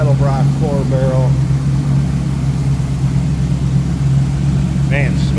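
A GM 5.7 liter crate V8 with a GM intake manifold and Edelbrock 4-barrel carburetor idles steadily in a 1934 Ford pickup street rod, a smooth low rumble running throughout while someone talks over it.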